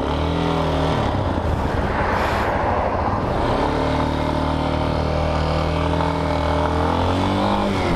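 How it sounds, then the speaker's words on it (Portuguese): A loud motorcycle passes on a street in Barra do Ceará, Fortaleza, its engine roaring close by for several seconds among steady traffic noise. A brief voice is heard at the start. "Moto alta."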